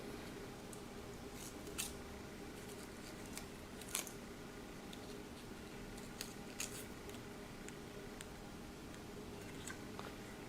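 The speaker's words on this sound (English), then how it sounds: "Cut off the excess tape." Scissors snip off excess tape in a quiet workshop, a few faint, sharp cuts scattered over low background noise.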